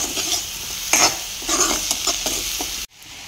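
Food fries and sizzles in a pan with turmeric and salt while it is stirred in several scraping strokes; the close, steady hiss continues and then drops off abruptly near the end.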